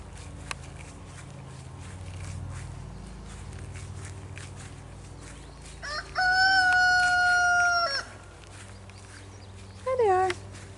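A rooster crows loudly and close by on a small farm, two separate crows, one long and one short, over a low background of clucking chickens, footsteps and distant voices.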